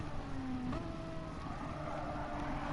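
A Renault Mégane Trophy race car in a racing video game heads toward turn 1 at Autopolis, its engine a steady, faint droning whine with a slight pitch drop partway through, heard alone without commentary.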